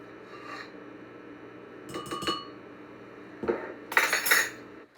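Dry pancake ingredients, salt and baking powder, mixed in a bowl for gluten-free pancakes, with a few short rasping strokes and clinks of a utensil, growing louder and busier toward the end.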